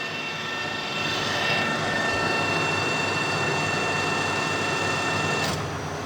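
A Colchester Master 2500 lathe fitted with a VFD runs at a raised spindle speed, giving a loud, steady mechanical whir with a constant hum and faint high whine throughout.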